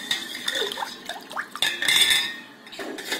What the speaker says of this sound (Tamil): இஞ்சி சேர்த்து நல்லா கலந்துட்டுக்குவோம்.